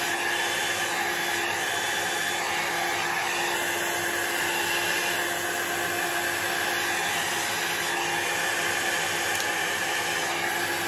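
Heat tool blowing continuously while drying alcohol ink on an abstract artwork: a loud, steady, unbroken whooshing roar with a faint whine, close and constant for the whole stretch, with no voices.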